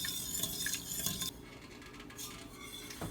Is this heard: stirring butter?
yes